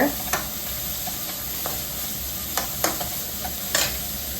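Carrots sauté in a hot pan with a constant sizzle, cut by a few distinct scraping stirs of a spatula now and then, up close and with no speech.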